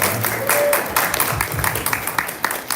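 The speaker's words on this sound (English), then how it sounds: "We'll give you a round of applause for that" An audience at a live quiz competition gives a short round of applause, with scattered claps rising and thinning over a few seconds amid room noise.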